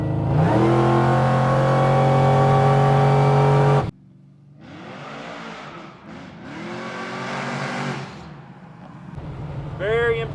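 An 800-horsepower 1972 Chevrolet C10 restomod accelerates hard at three-quarter throttle, its engine roaring loud and rising in pitch, then cutting off; further revving passes follow with rising and falling engine tone.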